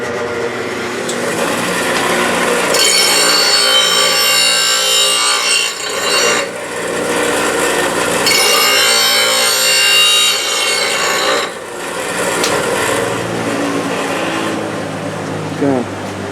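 A grinder works metal on a homemade wrecker build, a loud continuous rasping whine that rises and falls in long passes, close up.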